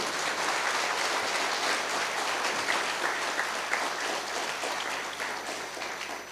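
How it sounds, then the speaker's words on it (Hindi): Loud, sustained applause from an audience at a Hindi-language talk, steady dense clapping throughout with no voices over it. "एक जोरदार ताली होना चाहिए"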